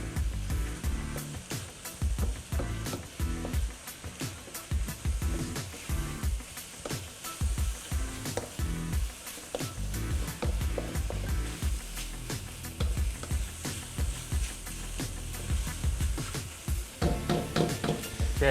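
Vegetables cooking in a pan seasoned with white pepper, with a steady sizzle broken by repeated clatters and scraping strokes of stirring, loud and close throughout.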